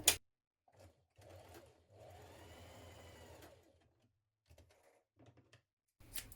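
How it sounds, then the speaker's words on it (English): A sewing machine stitches the short ends of fabric dress bands with a 1.2 cm seam, running in a few short bursts and one longer steady run with quiet pauses between, close and moderately loud. "we're going to stitch together the short ends"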